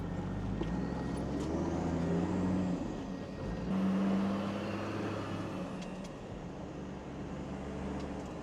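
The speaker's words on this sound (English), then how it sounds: "We'll go for a bit of a drive to a nearby lake" A car drives along a road toward a nearby lake in Australia, its steady low engine and road drone heard from inside the cabin throughout, with a slight dip and swell midway.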